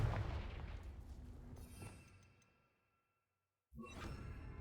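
Confringo fire spell cast in Hogwarts Legacy: a loud rumbling, whooshing blast that fades into silence, then a second burst of crackling energy starts up abruptly.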